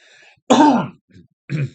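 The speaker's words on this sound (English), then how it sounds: "I don't know why I'm coughing so much" A harsh, throaty cough or throat-clearing bursts out, followed by a smaller grunt and another short rasp, close to the microphone.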